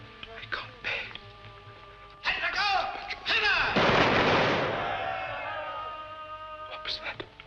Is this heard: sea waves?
no